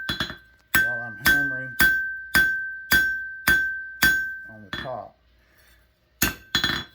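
Hammer striking a knife blade on an anvil, a series of sharp, ringing metallic blows at an even pace with a long bright ring after each, a brief pause and rustle, then two more strikes.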